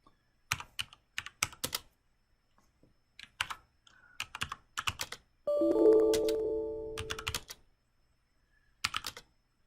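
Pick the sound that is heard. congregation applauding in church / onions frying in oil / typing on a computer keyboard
typing on a computer keyboard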